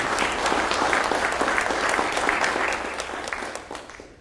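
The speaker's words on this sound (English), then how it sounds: "Please, let's hear it for them." Audience applause for a school program, close and steady with crisp individual claps, tapering off toward the end.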